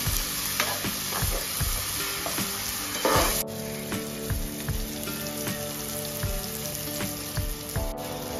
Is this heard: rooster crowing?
no